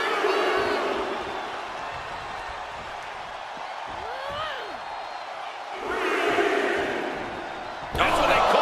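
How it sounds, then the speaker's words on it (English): An arena crowd in the WWE 2K25 wrestling video game roars and cheers in broad washes, swelling mid-way and again at the end, while a commentator talks over it. "little Miss Bliss has this crowd in the palm of her hand"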